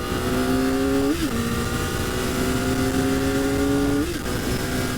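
A high-pitched inline-four engine on a 2023 Kawasaki ZX-4RR holds a steady screaming rev, with two quick throttle blips dipping and rising in pitch, loud and close.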